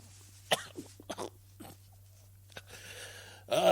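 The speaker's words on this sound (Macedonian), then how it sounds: "Ме отруја кашлица." Someone coughs several times in short, rough bursts at close range, with quiet pauses between them and a heavier burst at the end.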